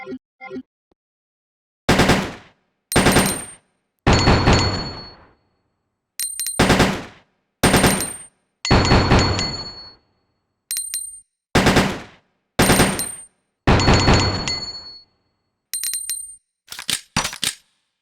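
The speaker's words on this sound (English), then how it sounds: "But now let's check it out with burst fire." Short bursts of gunfire from a weapon in Resident Evil 2, fired repeatedly in clipped groups with near-silent gaps between them and sharp metallic ringing after each volley, loud and close with nobody speaking.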